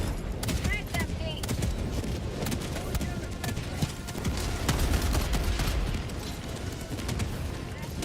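Rapid video game gunfire in a multiplayer shooter, dense bursts of shots continuing throughout with voices talking over the action.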